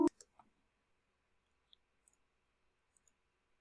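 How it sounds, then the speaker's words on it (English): A computer mouse is clicked while the Option key is held: one sharp click up front, then a few very faint, sparse clicks in otherwise near silence. "So holding down Option, click."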